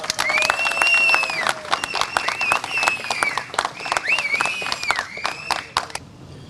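An audience at a political gathering claps and cheers continuously, dense applause with whistles and high shouts layered over it, loud and close, tapering slightly at the end.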